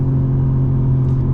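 A 2024 BMW M4 Competition G82 drones steadily from inside the cabin with the windows up, a loud, constant low engine rumble filling the whole moment without any talking.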